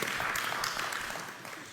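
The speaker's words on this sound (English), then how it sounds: "That's worth a round of applause" Audience applause at a conversation event, a short burst of steady clapping filling the room at even loudness.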